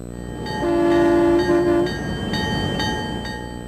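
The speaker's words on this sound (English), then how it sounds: "Trains owned by the Iron Ore Company of Canada, IOC, run daily through this area" An Iron Ore Company of Canada freight train rolls through snowmobile country in Labrador West, its steady low rumble carrying a loud sustained horn blast of a bit over a second, with no talking.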